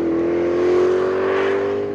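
Spyker C8 Aileron sports car engine revving in a steady, loud drone, its pitch climbing slightly and swelling in the middle before easing off, heard alone and close.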